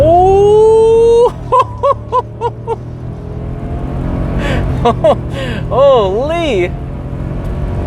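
A Ford F250 with the 7.3L Godzilla V8 pulls at full throttle inside the cab, a steady low engine drone building and shifting beneath loud in-cabin talk and a startled exclamation.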